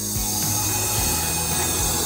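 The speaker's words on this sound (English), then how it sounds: "Turn on the vacuum." Vacuum cup lifting tool running, its pump or motor holding a steady mechanical drone with faint irregular clicks and rattles, close and continuous throughout without speech.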